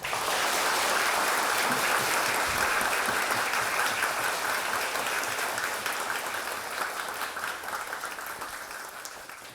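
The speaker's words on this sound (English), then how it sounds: "With enthusiastic applause, let's warmly welcome Khenpo Sodargye to our School for Teaching." A large audience gives enthusiastic applause to welcome Khenpo Sodargye, a Buddhist teacher, to a school event. Dense, steady clapping fills the whole span, loud at first and tapering slightly toward the end, with no voices.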